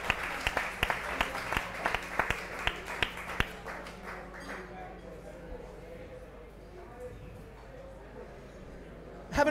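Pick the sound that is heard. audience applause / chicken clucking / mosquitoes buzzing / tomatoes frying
audience applause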